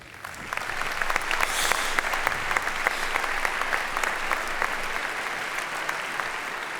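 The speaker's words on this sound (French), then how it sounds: "vous pouvez les applaudir quand même" An audience at a diocese jubilee celebration in Luçon applauds in a steady, sustained burst of clapping that fills the hall without letting up, with a faint crowd murmur underneath.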